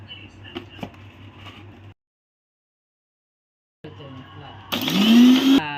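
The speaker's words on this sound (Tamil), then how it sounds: "அதுக்கடுத்து மற்றதெல்லாம் போட்டு மிக்ஸ் பண்ணி நல்லா அரைச்சிக்கலாம்." Mixer grinder blending coffee powder and sugar for cold coffee, starting with a loud rising whir that sharply climbs in pitch and stays close. It follows a short stretch of quieter rumble and a silent gap.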